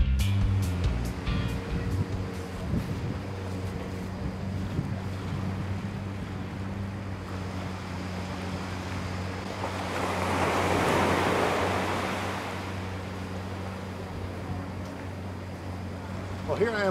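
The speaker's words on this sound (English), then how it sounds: "fall asleep to the sound of crashing waves outside their chalets" Ocean surf at Rai Lay Beach in Thailand rolls in with a steady wash, swelling into a broad louder wave midway, under a low boat engine drone and some wind noise.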